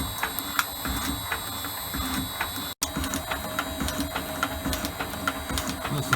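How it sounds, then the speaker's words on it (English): Metal shaper machine on an Elliot 14S taking a light cutting pass to bring a workpiece down to size, with repeated rhythmic clicks and strokes over a steady mechanical hum, heard close and moderately quiet. "Shaper's doing alright though, just taking it down to size."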